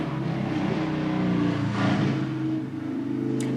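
Road traffic outside a room, a steady low rumble of passing vehicles with a slight swell near the middle, heard alone at moderate level without talk.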